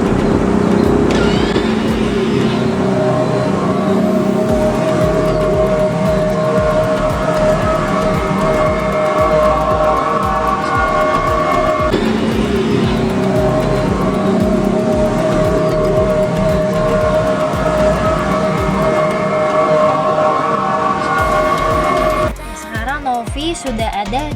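A Toyota Innova Zenix hybrid sounds its reversing warning outdoors: a steady, repeating tonal chime runs the whole time, with a voice talking over it and a brief shift near the end.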